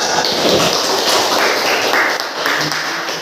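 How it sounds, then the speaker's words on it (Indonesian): Students in a classroom give group 2 a round of applause, a dense, steady burst of clapping from many hands that carries on without a break and tapers slightly near the end. "kita beri aplaus untuk kelompok 2"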